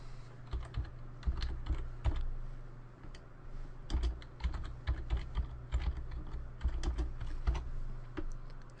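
Typing on a computer keyboard while entering disk partition commands, a quiet, irregular stream of close key clicks and taps with brief pauses between bursts, no voices.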